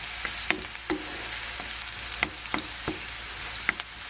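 Potatoes frying in oil in a pan for a Spanish tortilla, a continuous crackling sizzle punctuated by sharp taps and stirring clicks from a utensil, close by and alone.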